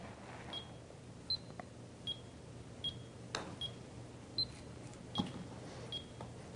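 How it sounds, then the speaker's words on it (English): A golf metronome beeps in a steady rhythm, short high tones about every three-quarters of a second, faint against a quiet outdoor background with a few soft knocks. "I'm going to listen for the loud beep, and that's going to be my trigger to start."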